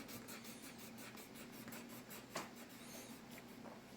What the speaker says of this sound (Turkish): Şimdi arkadaşlar bunu boyayacağım sana.